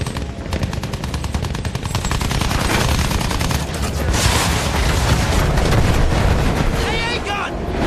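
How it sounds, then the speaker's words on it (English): Anti-aircraft gun in Battlefield 1 pounding out rapid, rhythmic bursts of fire alongside heavy booms and a roaring aircraft, loud and sustained throughout, with shouted voices mixed in. "Keep your speed up and turn hard so the AA gun can't track us!"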